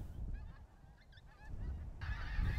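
Honking geese call in flight over a border shooting field, several overlapping honks at moderate distance above a low rumble of wind.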